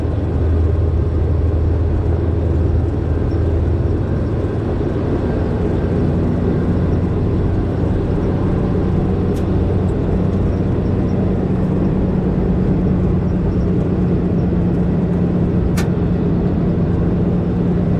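A Jeep CJ-5 engine labours up a steep grade of roughly 20 percent on a wooded foliage ride, a steady loud continuous rumble with road and wind noise throughout, no talk.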